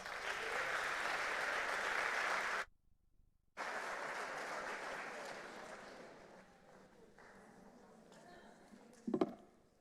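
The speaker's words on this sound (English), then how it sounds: "a warm applause" Warm audience applause at a welcome event for a new class in Madrid, greeting a student government president as he takes the stage: dense clapping that briefly cuts out, resumes and tapers off, then a short sound near the end.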